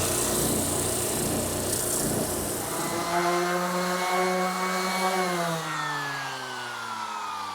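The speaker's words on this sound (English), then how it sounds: "I'll smooth them up with my drum sander." Electric drum sander runs as curved wooden edges are smoothed, first a rough scratchy grind, then a clear motor whine that drops in pitch as it winds down, fairly close and alone.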